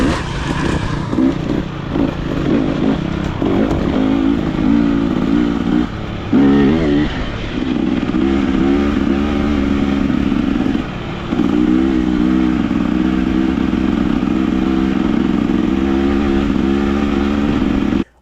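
A KTM 300 XCW two-stroke dirt bike rides along a road, its engine buzzing loud and close for the whole stretch with a brief dip in revs partway through and steady rasping under load.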